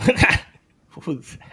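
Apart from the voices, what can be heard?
English bulldog vocalizing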